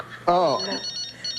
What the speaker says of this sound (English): Dude, you got a phone ringing.